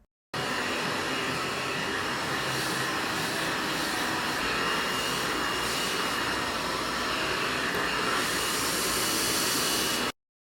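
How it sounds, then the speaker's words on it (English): A hair dryer blow-drying hair, a loud continuous whooshing roar that switches on abruptly, runs steadily with slight shifts as it moves, then cuts off, with no voices. "It's time to blow dry."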